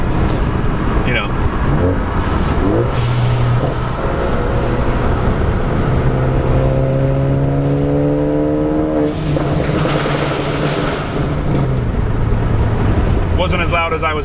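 Ford Focus ST engine revving in sustained pulls with rising and falling pitch, fairly loud and steady across the stretch, with some wind buffeting and brief talk over it.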